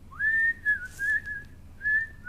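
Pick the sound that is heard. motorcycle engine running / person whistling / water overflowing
person whistling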